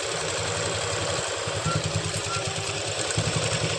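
Close, steady rapid clatter of a sewing machine stitching a palazzo pant seam, running continuously with brief changes in pace.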